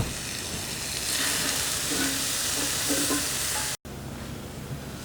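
Sausage sautéing in a hot pan gives a steady, loud sizzle and crackle that holds for the whole stretch, broken only by one brief gap near the end.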